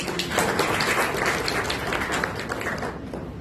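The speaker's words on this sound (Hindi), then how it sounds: "ताली बजाओ इन लोगों।" A seated audience at a spiritual class claps steadily together, a dense, even patter of many hands at close range that fades slightly at the end.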